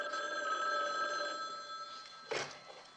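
A telephone rings indoors at the McMillan residence in a classic mystery crime drama, a bell trill that repeats over a quiet room and ends with a short clatter as the receiver is lifted.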